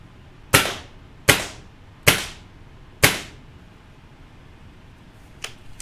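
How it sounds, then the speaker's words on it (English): A Gamo Swarm Maxxim gen 2 air rifle fires .22 pellets at a downrange target, giving four sharp, evenly spaced cracks with quick decay, followed by faint small clicks, in a quiet outdoor setting. "I'm going to shoot at the target that is inside that little groundhog thing on the target downrange"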